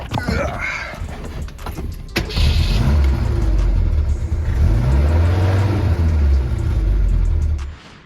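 A 1970s Ford Pinto engine cranks, catches and revs, a close, loud mid-pitched roar with rising and falling swells that cuts off abruptly at the end, with speech at the start.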